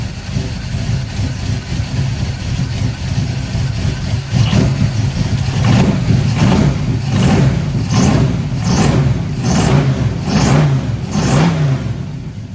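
A car engine fitted with a Holley Sniper EFI idles loudly and close, with a rough, steady rumble broken by several short rev blips in the second half.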